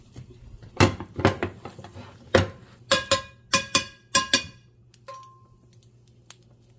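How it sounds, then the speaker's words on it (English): A plate is set over a pan holding a Spanish omelet and the pan is turned over, producing a series of sharp clattering knocks of ceramic and metal, sparse at first, then a quicker cluster of clinks. "you take some type of plate, put it over, and you're just gonna turn it"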